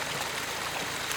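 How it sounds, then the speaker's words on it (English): Water runs from a gold sluice box into a dug hole during high banking, a steady, soft trickling flow with no voices. "The water from my sluice box is actually being contained in this hole."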